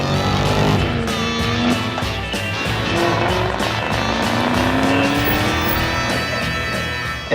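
A Ford Mustang sports car drives past with a loud, sustained engine roar and rising whine, with tire squeal mixed in and no talking.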